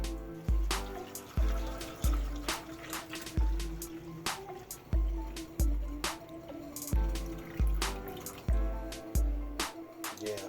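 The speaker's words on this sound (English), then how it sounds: "We're going to fill the trough with hot water right now and get some charcoal" Hot water pours into the water trough of a Weber kettle set up for slow and sear, a pulsing gurgle of glugs and splashes in a steady rhythm, close and alone.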